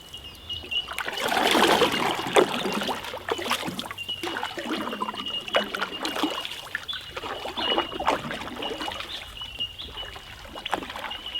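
A canoe paddled with J strokes on open water: repeated swishing and gurgling paddle pulls with trickles and light splashes, close and fairly loud, over a steady high insect-like whine outdoors.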